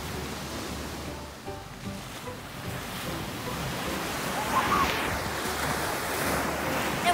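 Ocean surf rolling onto a beach in a continuous broadband wash, with wind buffeting the microphone and a swell of breaking water partway through; no talk is heard.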